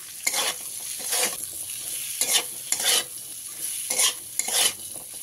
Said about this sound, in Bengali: পেঁয়াজ আর ক্যাপসিকামটা আমার ভাজা হয়ে গেছে, তুলে নিলাম।